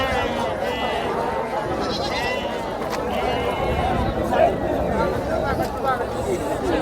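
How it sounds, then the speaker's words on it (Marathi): Sheep and goats bleat at a busy livestock market in Sangola, their calls mixed into a dense, steady crowd of voices and trading chatter. "आपण आता बोकडं वगैरे दाखवूया शेळ्या दाखवूया पुरा ही मेंढीचा बाजार आहे"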